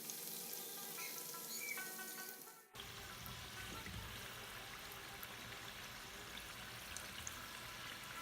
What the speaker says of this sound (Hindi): मीडियम फ्लेम पर दोनों साइड से समोसों को अच्छी तरह डीप फ्राई कर लें